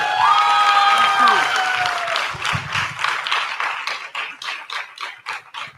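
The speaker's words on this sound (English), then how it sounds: "So can we have a special round of applause for them?" At a fashion and Bollywood talk forum, the audience gives a round of applause that opens with a shrill whistle and cheering. The clapping then tapers into scattered, distinct claps that fade out.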